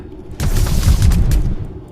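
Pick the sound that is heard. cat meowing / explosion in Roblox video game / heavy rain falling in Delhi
explosion in Roblox video game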